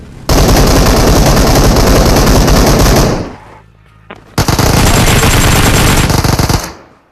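Loud, close automatic gunfire from PUBG Mobile, fired in two sustained bursts separated by a brief lull, with no talking.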